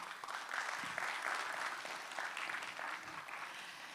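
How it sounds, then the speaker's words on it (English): Conference audience applauding themselves at an opening session, a full, continuous round of clapping from many people, moderately distant and even in level. "Can we please give yourselves a round of applause before we start?"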